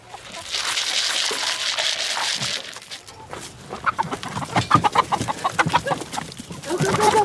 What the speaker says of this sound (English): I got lots of chickens, much to Ray's chagrin.